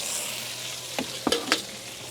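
A spoon scrapes and stirs fish curry in a hot pan, with a few distinct scraping strokes over a soft continuous sizzle while cooking outdoors in a van.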